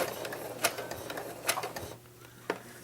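A sewing machine stitching fabric for a potholder, running in short bursts of rapid needle ticking with sharp clicks and pauses, close and moderately loud in a quiet room.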